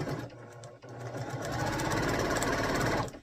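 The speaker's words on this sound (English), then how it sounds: "Grab that first row, and I'm just going to sew down 1 column at a time," A sewing machine runs on quilt rows, starting with a short burst, pausing briefly, then stitching in a continuous rapid mechanical whir that stops abruptly at the end.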